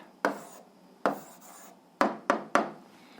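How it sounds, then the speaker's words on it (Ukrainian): Chalk or pen writing out the answer to an 8th-grade algebra equation: five crisp, close taps and short strokes come in uneven bursts, each dying away quickly against a quiet room. "Ну, а Зараз записуємо відповідь, пишемо відповідь."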